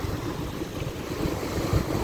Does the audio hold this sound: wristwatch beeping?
no